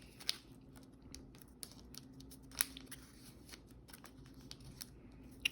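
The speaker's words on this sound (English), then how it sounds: "So we're gonna fold this up." Origami paper being folded while making a dragon, heard as quiet, close crinkles and sharp creasing clicks scattered over several seconds against a soft low background.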